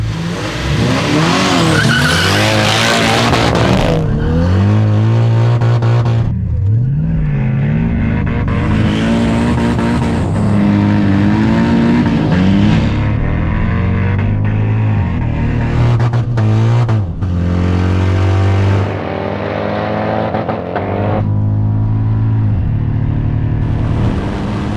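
Two 500 hp cars, a Nissan and a Mercedes, drag racing: loud sustained engine roar with revving, gear changes and tire squeal, the engines rising and falling in pitch across the run with no talk over them.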